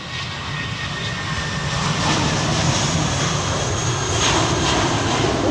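A jet aircraft taxis at London Heathrow Airport, its engines giving a steady, loud, close roar with a broadband whine that holds level throughout.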